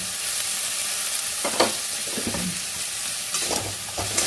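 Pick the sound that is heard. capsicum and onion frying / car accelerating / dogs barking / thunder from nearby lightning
capsicum and onion frying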